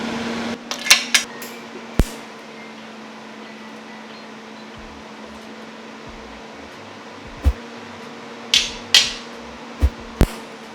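A TIG welder tacks a steering quickener for a Subaru rally car in a workshop, with sharp clicks and brief bursts over a steady electrical hum and a few quiet gaps.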